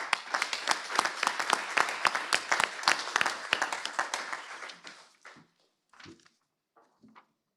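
A council assembly applauds to elect its board by acclamation, steady dense clapping for about five seconds that then breaks into a few scattered claps and fades to silence.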